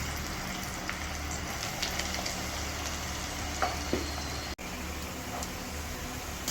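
Bitter gourd sizzles steadily in oil in a pan, with occasional scraping clicks of stirring; no voices.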